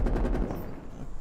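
Gunfire in Call of Duty Black Ops Cold War, a rapid burst of several loud, close automatic shots in the first half second, then fading.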